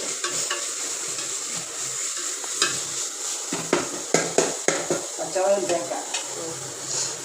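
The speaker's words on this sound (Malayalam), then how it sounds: "നമ്മൾ വഴറ്റിയെടുക്കുകയാണ്" Ingredients for a kingfish curry being sautéed quickly in a pan, a constant sizzle under brisk clattering stirs and scrapes of a spoon against the metal, close by, with occasional speech.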